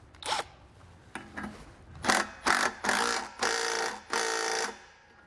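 A half-inch bolt is tightened on a MORryde jerry can mount for the spare tire of a 2009 Jeep in a series of close, raspy ratcheting bursts that grow longer toward the end, separated by short quiet gaps.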